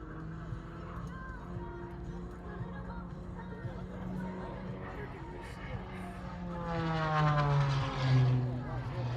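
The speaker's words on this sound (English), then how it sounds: "She goes nose for tail, tail for nose as she now cracks the stroke and brings the aircraft back towards show center." An aerobatic airplane flying a maneuver at the Columbus Ohio Air Show drones in the distance, its propeller tone rising and swelling louder toward the end beneath continuous commentary from a loudspeaker announcer.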